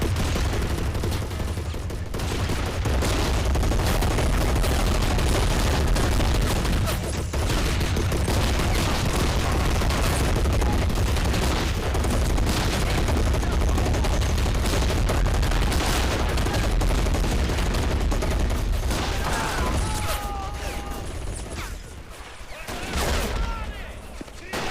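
Battle in the Men of War video game, with Soviet troops assaulting a bridge while sniper and rifle fire try to suppress German positions; dense, loud, continuous volleys of gunshots and bursts with booming impacts, easing slightly near the end.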